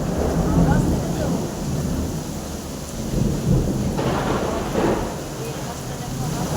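Heavy rain pours in a dense, continuous roar with rumbling thunder rolling underneath, loud and close throughout a stormy monsoon downpour.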